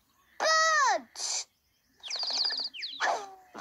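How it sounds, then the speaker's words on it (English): Startled cartoon birds in a children's animated bird-watching episode, heard as a quick run of bright, warbling whistled calls and chirps in several short bursts, loud and close. "The startled birds flutter away."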